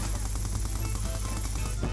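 Rapid bursts of gunfire in an online shooter video game, a fast string of sharp shots repeating evenly over a steady background hum.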